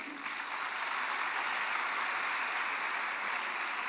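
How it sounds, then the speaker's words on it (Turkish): Continuous, even applause fills a meeting hall at a party event launching a family-support insurance program, a dense distant patter of many hands with a short sharper burst at the very start. "İzninizle onları bir alkışlayalım."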